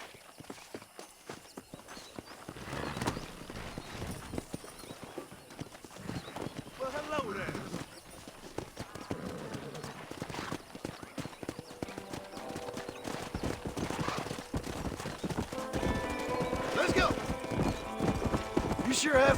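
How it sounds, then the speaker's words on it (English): Hooves clip-clop in quick patter as horses run in the video game Red Dead Redemption on Switch, with an occasional whinny, fast drumming rising toward the end beneath spoken dialogue. "Let's see if we can't wrangle some horses."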